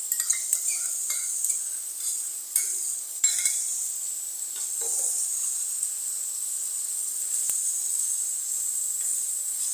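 Chicken liver frying on a tawa with ginger garlic paste gives a steady high sizzle, with a few scrapes and clinks of a spatula early on, close and continuous with no talking.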